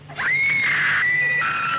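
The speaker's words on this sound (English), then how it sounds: "Practice your screams." A horror screaming sound effect rings out as one long, loud, high scream that holds steady and then drops slightly in pitch. No one talks during it.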